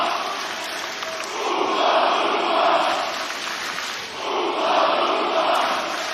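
A large AEW wrestling arena crowd chants in two rising waves, a loud sustained roar of many voices swelling and easing without any single voice standing out.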